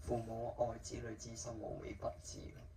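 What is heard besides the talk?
None of the usual background noises is heard.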